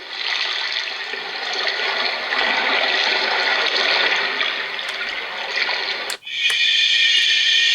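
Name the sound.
sea waves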